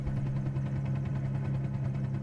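Helicopter engine in Microsoft Flight Simulator, bogging down and losing rotor speed while flying over London in the rain: a steady low droning hum with a faint rhythmic pulsing, continuous and fairly loud, with no talking.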